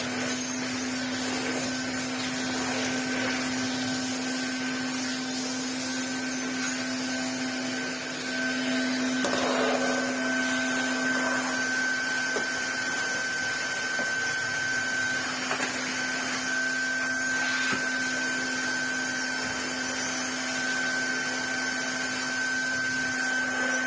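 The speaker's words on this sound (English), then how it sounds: "nice straight suction cylinder vacuum with a disposable bag" A bagged cylinder vacuum cleaner with straight suction runs steadily throughout, a constant close motor whine with a strong hum, briefly shifting in pitch and load around the middle.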